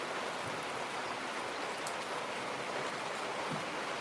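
Steady rain falling in a continuous hiss, with no distinct thunder rumble.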